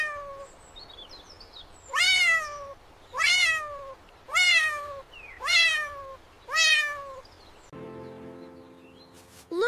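A kitten stuck in a tree gives five high, plaintive meows at a steady pace, close and clear, then a brief low buzzing tone at the end.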